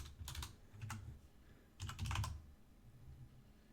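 Keys clatter on a computer keyboard in two quick clusters of taps, soft and close, with a short pause between the bursts.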